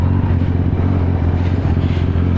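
A white and black 2004 Honda 600 RR motorcycle being ridden, its engine giving a loud, steady, close drone with a low throbbing hum throughout and no speech.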